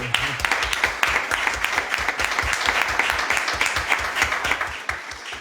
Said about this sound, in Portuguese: eu proponho também uma salva de palmas para eles, porque contribuem muito bem para a nossa freguesia